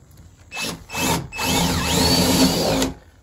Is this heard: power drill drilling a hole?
yes